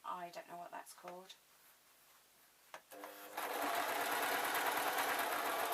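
A sewing machine stitches jester slippers, starting after some talk and a pause, then running in a loud, steady continuous whir to the end.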